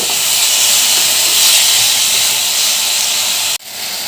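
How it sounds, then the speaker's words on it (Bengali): Chopped flat beans, thin-sliced pointed gourd and carrot frying in a pan, giving a loud, steady sizzling hiss that runs unbroken before a brief dip near the end. "এবার সব সবজিগুলো ভালো করে ভেজে নেব"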